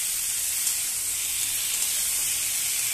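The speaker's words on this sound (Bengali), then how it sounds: "আমি একসাথে ভেজে নিচ্ছি" Potatoes frying together in a pan of hot oil for a vegetarian potato and cauliflower curry, a steady close sizzle and hiss running evenly throughout with no talk.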